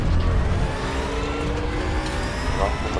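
A McLaren Formula race car in a racing sim drives with a steady, loud engine drone and tire roar that runs continuously throughout, a rival car audible nearby.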